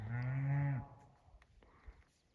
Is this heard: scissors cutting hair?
no